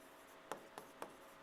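Chalk or marker strokes on a board during a Hindi-language class 10 math lesson: three short, crisp scratches spaced roughly a quarter second apart, quiet and alone with no talk.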